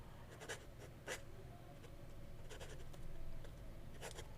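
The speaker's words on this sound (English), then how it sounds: "it's kind of a flexy, wet nib. A little scratchy" A flexible, wet fountain pen nib scratches across paper in short, light strokes, faint and intermittent, with a slightly scratchy texture and no talking.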